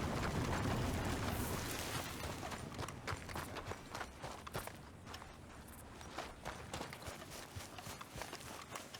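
Horse hooves gallop in a steady, rapid rhythm across open ground in Red Dead Redemption 2, starting under a loud wash of rushing noise and then ringing out clearly and close as it fades.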